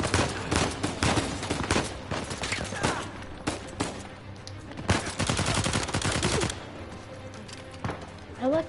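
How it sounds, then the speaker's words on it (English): Gunfire in the video game Uncharted 4: rapid bursts of shots and volleys rattle in clusters with brief lulls between them, moderately loud and sharp. "I like how my bullets are like damaging the environment."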